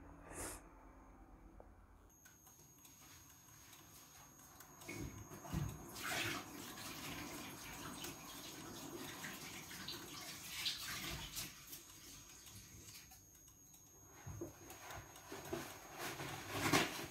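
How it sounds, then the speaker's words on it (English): Tap water running while hands are washed at a home kitchen sink, a faint, uneven splashing stream with brief surges and soft rubbing, no talking. "let me quickly wash my hands."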